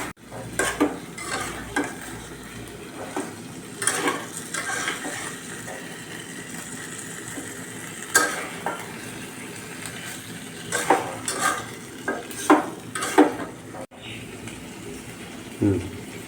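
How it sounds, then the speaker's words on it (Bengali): A spiced chicken roast cooked with garam masala and cumin is stirred in a pan with gentle sizzling, marked by repeated scraping and clinks of a utensil against the metal over about sixteen seconds. "গরম মশলা গুঁড়া দিয়ে কষানো মাংস একটু নাড়াচাড়া করা হবে"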